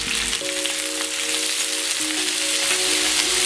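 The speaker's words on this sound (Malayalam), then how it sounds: "ഇത് അല്പനേരം ഇളക്കി വഴറ്റുക." Okra, onion and green chili sizzle and fry in a hot pan with curry leaves, a steady close crackle that holds throughout with no talking.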